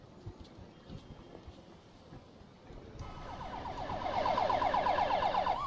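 An ambulance siren in the emergency-response game Emergency 4, set in Debrecen, starts midway after faint scattered clicks and rises into a loud wailing, warbling tone that swells toward the end, with no speech.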